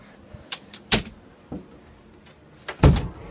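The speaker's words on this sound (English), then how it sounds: "gotta close the door" A door is shut indoors in a home, with a few clicks and knocks building to a firm, close thud near the end; no one speaks.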